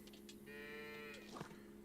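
A cow moos in the Cattle Country video game on Xbox Series X, one sustained harmonic low call lasting about a second, clear and fairly close over a steady game background hum.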